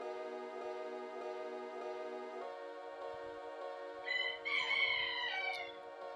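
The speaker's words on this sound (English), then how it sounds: "Chickens are extra loud today, I think." A rooster crows loudly and at length, with chickens clucking softly underneath and a second crow rising near the end.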